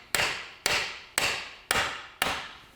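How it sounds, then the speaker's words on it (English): Hammer tapping a seized bolt on the shaft of a Citroen C5 during a clutch job: five sharp, evenly spaced metallic strikes, each ringing briefly and decaying, close and fairly loud with no talk. "Get the hammer."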